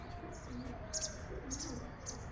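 Soft, low pigeon coos come and go in short phrases, with brief chirps from nearby birds over a steady background hum.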